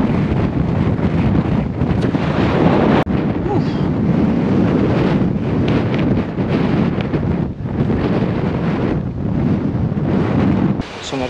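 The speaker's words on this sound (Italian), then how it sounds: "tira un forte vento" Strong wind roars and buffets the microphone continuously while cycling near Chioggia on the Adriatic coast, a loud, rough rumble throughout with faint voices buried beneath it.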